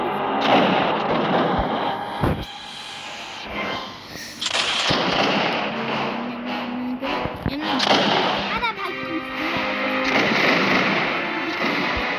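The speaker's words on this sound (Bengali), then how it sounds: "আমি গুলি করতেছি" Musket fire in the video game Muskets of America, a series of sharp booming shots spaced irregularly, with a burst of background voices between them.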